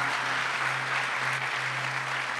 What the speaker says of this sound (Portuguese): Vamos dar uma salva de palmas para todos os nossos voluntários.